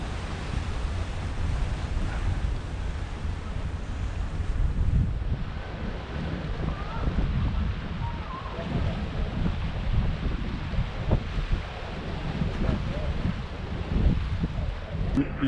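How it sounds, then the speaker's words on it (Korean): Waves roll against the shore at Wolmido on the Incheon coast, a steady, fairly soft wash of surf blended with gusty wind buffeting the microphone for the whole stretch. "파도 소리가 정겹습니다."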